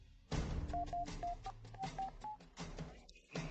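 Series of DTMF touch-tone beeps as a telephone number is dialed, about eight short evenly spaced tones in a tense night scene, with low background sounds underneath and no talk.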